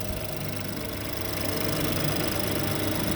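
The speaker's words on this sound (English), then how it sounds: "You can hear how noisy these engines are, even brand new." Rebuilt 2018 Ford Fusion 1.5L EcoBoost engine running uncovered with fresh coolant and oil, a steady, even idle hum with constant mechanical clatter and no break in level.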